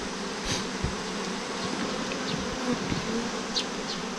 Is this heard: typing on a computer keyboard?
no